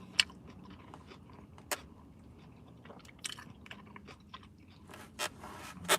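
Someone chews food with raw onion and cilantro close to the mic, with soft wet mastication under a low background and a few crisp crunchy bites toward the end, no talking.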